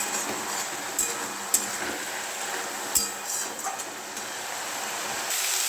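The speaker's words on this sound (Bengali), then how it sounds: "নুন দিয়ে এটা ফ্রাই করছি" Onion greens frying with salt in a pan give a steady, moderate hiss of sizzling oil, broken by a few sharp clicks and taps of stirring throughout.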